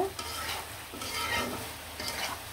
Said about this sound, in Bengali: এখন ভাজা ভাজা করে নিব সবগুলো